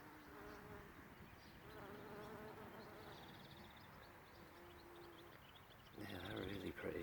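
Bees drone steadily around spring garden flowers in Cornwall, a soft continuous buzz heard beneath people chatting nearby.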